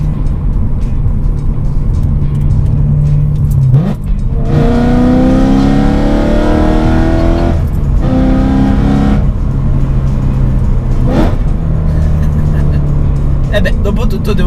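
A BMW M3 engine, just back from repair, revs hard and accelerates through several rising pulls separated by shifts, loud and close from inside the car, with a voice talking over it.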